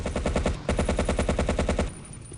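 Machine gun fire in Battlefield 1942, a rapid, even burst of loud shots close by that pauses briefly, resumes, then stops into a fading echo.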